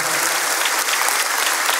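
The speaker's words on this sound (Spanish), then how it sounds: "Le damos un fuerte aplauso a Dios por esta" Church congregation applauding, a brief, steady, dense burst of clapping from many hands filling the whole moment.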